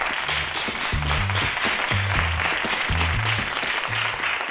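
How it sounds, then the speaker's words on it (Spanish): A game-show studio audience applauds steadily, dense clapping continuing throughout over a low rhythmic musical beat from the show. "Venga, un aplauso para vosotros."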